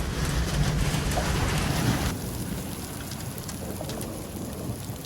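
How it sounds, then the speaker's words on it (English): Steady rain falls during a thunderstorm while camping in the Badlands national park, a dense, hissing wash that turns a little lighter after about two seconds, with no voices. "Still raining."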